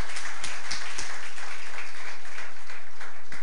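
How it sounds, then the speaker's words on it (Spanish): A brief round of audience applause for a woman named Laura, a dense wash of clapping with a few distinct sharp claps, lasting a few seconds with no talking. "Por eso pido un aplauso para Laura"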